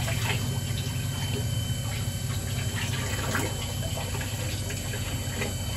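Water rushing steadily through a bulk bee-feeding syrup line, a continuous close, fairly loud flow with faint gurgles and spatters throughout and no pauses.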